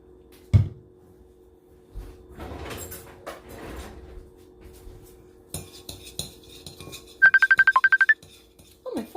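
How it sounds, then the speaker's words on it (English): A phone rings in a home kitchen during a cooking show, a rapid trilling burst cutting through after clinks of cutlery and dishes, fairly close and alone without talk. "phone's ringing."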